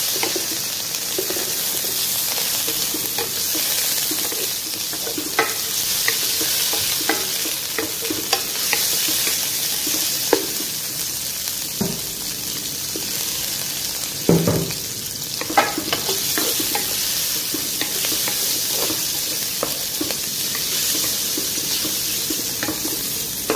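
Meat fries in oil in a pot for Mosuli qalia, making a loud, continuous sizzle broken by frequent spatula scrapes and knocks against the pan, with no talking.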